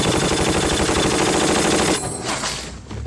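Rapid machine gun fire rattles loudly and continuously in a war TV series battle scene, then breaks off into scattered shots and fading echoes.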